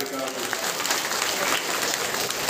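A crowd at a government welfare scheme event in Telangana breaks into sustained applause, a dense, loud clatter of many hands that stays steady throughout.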